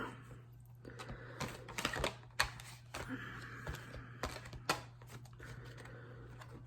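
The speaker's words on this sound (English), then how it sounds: "So we're going to shuffle these cards and see what comes up" Tarot cards are shuffled in several quick riffling bursts with short pauses between, close and fairly quiet over a low steady hum.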